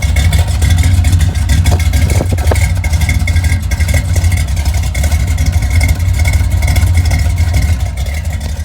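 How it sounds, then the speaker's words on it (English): Idling 1969 Corvette V8 with an aftermarket cam, its exhaust giving a loud, close, steady lumpy rumble with an uneven galloping beat throughout, no voices. "let me have you listen to this rumble in this exhaust"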